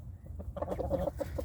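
A two-year-old game fowl rooster gives a short run of soft, throaty clucks, close by and fairly quiet against low background rumble.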